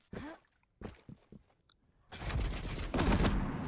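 Quake lightning gun firing during a competitive match, a long continuous crackling electric buzz that starts abruptly and holds loud and close, preceded by several short sharp gunfire bursts, with no talk.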